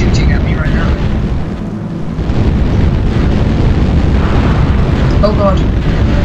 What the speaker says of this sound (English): Literally, pretty much half of the military base is shooting at me right now.